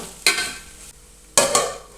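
Brinjal (eggplant) curry being stirred in a pan, giving two bursts of scraping and sizzling at about a quarter second and again near 1.4 seconds, each fading back to a quiet simmer, close and fairly loud with no talk.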